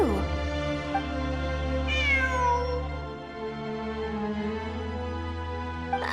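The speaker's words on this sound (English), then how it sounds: "It really is a cat." A cat meows in a video game set in mysterious ruins, one clear rising-and-falling meow partway through, heard over a steady, sustained musical drone.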